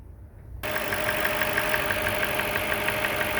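An Audi A6 C6 with a 4.2 engine idles at normal running temperature, a steady close mechanical hum with a faint rhythmic ticking that starts abruptly after a moment of quiet, with no talking.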